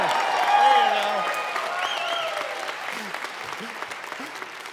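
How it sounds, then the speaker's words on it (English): Studio audience applause at a talk show taping, swelling briefly then tapering off, with a spoken voice and a few exclamations over the clapping. "We need applause there. Let's try it."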